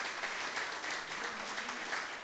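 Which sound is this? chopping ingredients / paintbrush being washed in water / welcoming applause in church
welcoming applause in church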